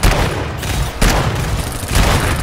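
Bursts of rapid automatic gunfire from pincer turrets in the video game GTFO, loud and close, coming in roughly three surges with brief dips between them.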